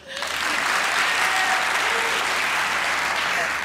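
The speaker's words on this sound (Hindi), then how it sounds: "जिनको लगता है कि अरसलान की साइकिल ज्यादा अच्छी है, तालियां हो जाए।" A studio audience on a comedy talk show breaks into loud, full applause, a dense continuous roar of clapping that swells in quickly and holds steady.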